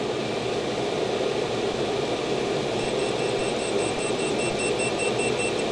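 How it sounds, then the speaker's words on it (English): A carbon monoxide meter beeps faintly with a thin, repeating high electronic tone, joined partway through by a steady hiss of diesel heater exhaust or air noise in the background, no speech. "Halt your beeping."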